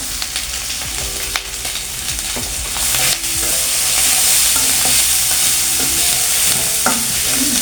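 Turmeric and dried chili powder masala fries loudly in a pan for chickpea ghugni, a dense steady sizzle with occasional stirring scrapes, close and continuous with no talking.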